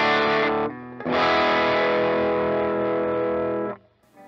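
A Guild Polara Kim Thayil electric guitar plays chords at a lower volume through a distorted, effects-laden tone: one brief strum, a short gap, then a long sustained chord ringing out alone before it is cut off.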